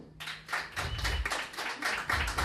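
Audience at a stand-up comedy club breaks into applause, a dense, steady patter of clapping lasting a couple of seconds with a few louder bursts.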